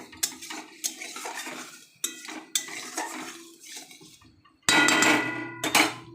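A metal lid set down over a cooking pan of ghati kochu and tamarind tok, with clattering pot-and-utensil knocks and a final louder clank as the cover lands, close and alone without talk.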